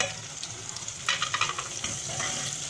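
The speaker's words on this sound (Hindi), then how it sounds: "अब इसमें मिला लेंगे ग्रीन चिली को थोड़ी देर फ्राई करने के बाद" Onion and green chili frying in a pan, a steady close sizzle with occasional stirring scrapes rising over it.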